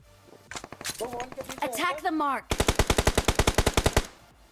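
Rapid machine-gun bursts in a battle royale video game firing in a steady, loud string of about fifteen shots, preceded by a shorter burst mixed with speech and in-game sound effects.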